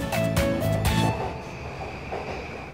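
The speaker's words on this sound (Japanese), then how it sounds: "東京駅に山手線の列車が入っていくよ。" A Yamanote Line train pulls into Tokyo Station, its motor whine and rolling wheels loud and close before they ease off and fade into a steady station rumble.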